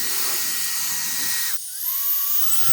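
A YOYOTO 300,000 RPM electric air duster blows in a loud, high-pitched whine that abruptly cuts, then rises again as the motor spins back up, close and alone.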